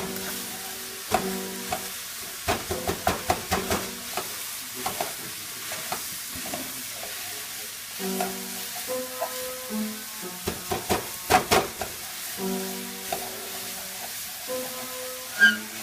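Finely chopped sausage frying in a pan, an even background sizzle broken by bursts of quick spatula scrapes and taps against the pan, close and fairly loud, no talking.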